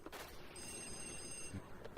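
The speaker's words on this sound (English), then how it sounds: "And the other phone starts ringing" Electronic telephone ringing in the haunted mansion of Luigi's Mansion, a bright trilling tone with sustained high warbles running the full two seconds over a murky game background.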